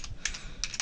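Several crisp clicks from a computer keyboard as someone types an ipconfig command at a Windows command line, spaced in a short irregular burst and heard close and clear without talk.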